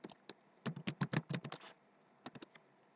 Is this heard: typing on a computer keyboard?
yes